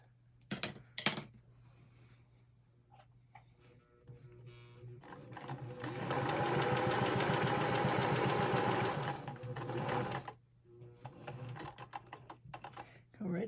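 A sewing machine stitches binding onto a star-shaped quilted table topper in one steady, close whirring run of about four seconds, with softer handling clicks before and after and a voice speaking around it.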